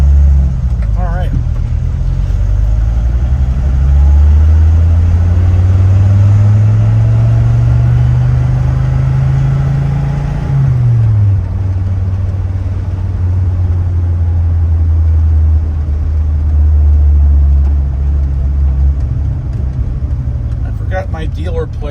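A 1994 Dodge Viper R/T10 engine runs steadily with a deep low rumble, revving up and easing back during a drive down a road, loud and close throughout.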